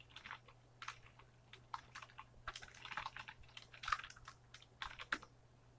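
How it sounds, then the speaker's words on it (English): Quiet, close typing on a computer keyboard, a quick irregular run of light key clicks with short pauses and no talking. "you can just type like surfing group"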